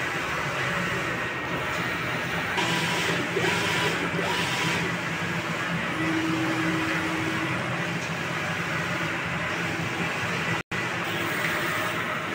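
A 6-foot four-head sublimation printer runs a nozzle test, making a continuous mechanical whir and hum with short whining motor tones as the head carriage moves, steady and close. Partway through there is a brief dropout and nobody speaks.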